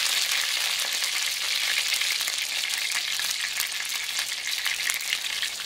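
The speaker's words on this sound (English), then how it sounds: "they're sizzling nicely" Pork chops sizzle steadily in a frying pan for a keto mushroom cream sauce dish, a dense, continuous crackling hiss close up, with no one speaking.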